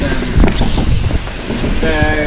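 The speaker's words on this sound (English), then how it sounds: "there is pretty strong waves and winds" Strong wind buffets a sailboat at sea near Wallis during a squally late season, with rough waves washing alongside in a steady, close roar that fills the whole stretch.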